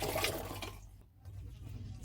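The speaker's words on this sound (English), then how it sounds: "now we can pour it into the fermentation tank" Fermented rice and longkong fruit wine is poured from a basin into a fermentation tank. A loud, close rushing gush briefly dips to near quiet, then a softer liquid flow resumes, with no talking.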